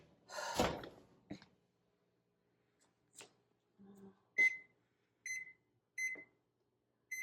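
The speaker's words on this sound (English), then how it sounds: "I'm going to set the timer for 45 minutes." A kitchen oven timer is set: a faint rustle and clunk followed by a series of short, clear electronic beeps at irregular intervals, with soft handling noises between them.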